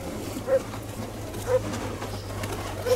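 A flock of pigeons coos outdoors in Santorini, with soft low calls repeating about once a second over a steady background murmur of birds and distant ambient noise.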